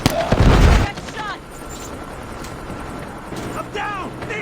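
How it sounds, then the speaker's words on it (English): Predator missile strike in Call of Duty Mobile, a loud heavy explosive blast at the start followed by scattered distant gunfire and game sounds through the rest. "Friendly Predator missile inbound."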